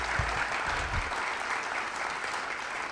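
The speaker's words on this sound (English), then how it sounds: "joining me in a round of applause about all of their contributions through the years" Dense audience applause at a keynote address, steady clapping filling the room with a few low thumps early on.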